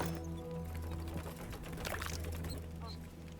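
Water pours steadily while being collected in the survival crafting game Voidtrain, a continuous splashing flow under a steady low hum, with faint clicks and a person's voice over it.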